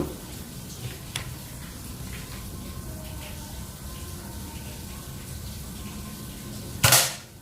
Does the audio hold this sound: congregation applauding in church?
no